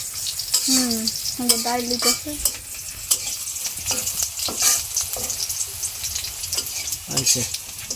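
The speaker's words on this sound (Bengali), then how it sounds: "তাহলে আগে আলুটা ভাজনা" Potatoes fry in a pan with a close, steady sizzle while a utensil scrapes and stirs in bursts; a voice briefly speaks over the cooking near the start.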